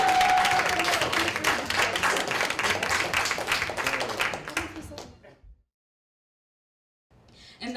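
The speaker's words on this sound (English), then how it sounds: "Applaud the" A poetry slam audience applauds a poet after the scores are read, a dense burst of clapping and cheers that fades out and falls silent, with faint crowd sound returning at the end.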